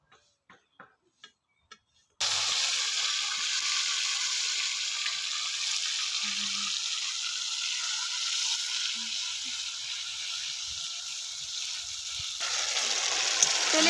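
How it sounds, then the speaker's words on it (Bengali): Tomato paste poured into hot spiced oil with whole cumin tempering for vegetarian pea ghugni: a few light ticks, then an abrupt, loud, steady sizzle that holds for about ten seconds before easing slightly. "ফোড়নটা ভাজা হয়ে গেছে এবার আমি দিয়ে দিচ্ছি টমেটো বাটা"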